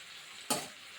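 Rasam powder and tomato stirred in a pan over low heat, a quiet background sizzle broken by one distinct spoon scrape partway through; no talking.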